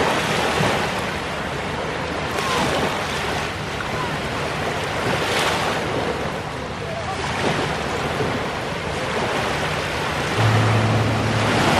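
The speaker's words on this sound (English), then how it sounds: "The waves aren't really high and it's very clear." Calm, gentle surf at a clear-water beach on the Florida–Alabama Gulf coast, heard as a steady broadband wash with soft swells rising and falling, plus some wind rumble across the microphone, with no voices.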